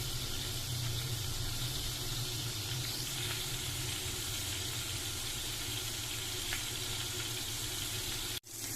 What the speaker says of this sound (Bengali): এবার জাস্ট ভেজে আমি তুলে নেব।